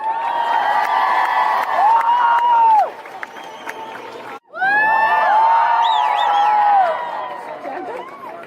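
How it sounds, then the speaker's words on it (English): Crowd at a school climate strike rally in Brisbane, Australia, cheering with whoops and raised voices, loud and continuous, with a brief drop near the middle before the noise surges back. "Give her a round of applause, guys."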